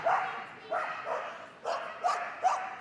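Collie dog giving short excited barks and yips during an agility run at Crufts, several quick vocal bursts in a loose rhythm heard at a distance under a commentator's voice.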